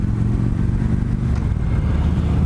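A 2015 Victory Gunner motorcycle's engine rumbles loud and close while riding, a steady low throbbing drone with wind noise and no change in pitch.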